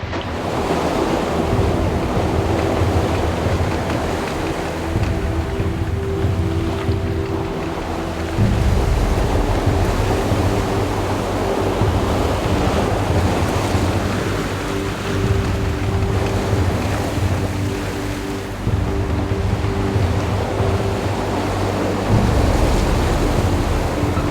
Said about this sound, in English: the wind crept above 35 knots in the gusts